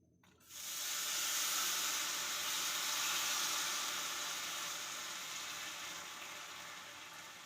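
Rava dosa batter hits a hot tawa and bursts into a sudden hissing sizzle after a moment of quiet. The sizzle is loud and close at first, then slowly fades over several seconds, with no talking.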